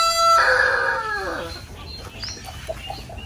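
A free-ranging rooster crows loudly and close by in one drawn-out call, followed by faint clucking from the flock.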